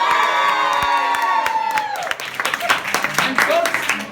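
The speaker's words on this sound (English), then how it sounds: "Let's get a cheer if you're Malayali." Audience at a stand-up comedy show in Maryland bursts into loud cheering, whoops and clapping, a dense crowd roar that fades into scattered shouts and claps over about four seconds.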